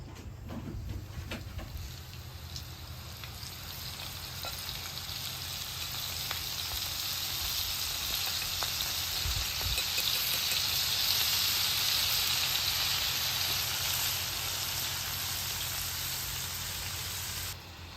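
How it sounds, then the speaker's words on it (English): Floured food deep frying on a flat top griddle, a steady loud sizzle and crackling hiss that swells and holds throughout, with a few faint clicks and knocks of handling. "when you're deep frying on a flat top griddle"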